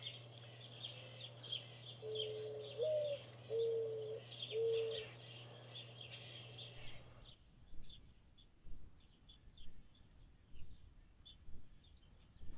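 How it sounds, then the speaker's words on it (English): Soft bird calls in the distance: a few low coos early on, then repeated faint chirps spaced out over a quiet background, with a steady hum fading midway. "you can also hear the birds"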